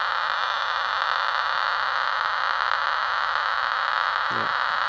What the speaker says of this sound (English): That hissing sound you're hearing is nuclear disintegrations that are ionizing inside the Geiger tube.